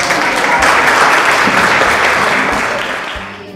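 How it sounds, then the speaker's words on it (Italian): Audience applause at an art competition awards event in Florence, Italy, a dense, steady clapping that fills the room for several seconds, then tapers slightly toward the end. "Applauso."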